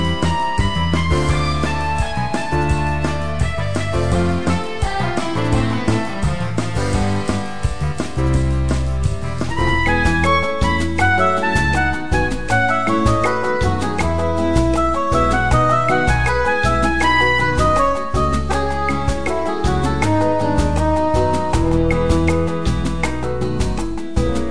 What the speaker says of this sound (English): I derived melodies from stock exchange values at the climax of the financial crisis 2009, and then I arranged it with the composition software SongSmith by Microsoft